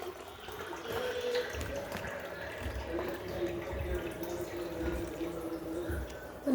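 Water poured out to drink during a Ganesh Chaturthi gathering, a steady splashing flow running for several seconds at moderate level over low background rumble.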